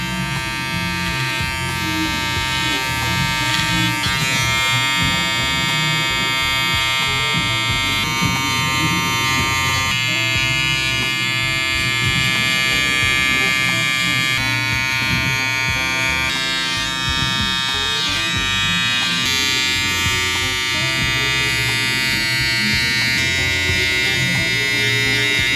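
Electric hair clippers buzz steadily and close up throughout a taper fade cut, a continuous motor hum gliding lightly over hair with only small shifts in tone and no pauses.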